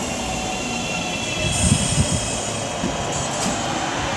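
A Class 323 electric train draws into a station on the West Coast Main Line, giving a steady low rumble of wheels and traction with faint high squeal, fairly close and continuous, with no voices.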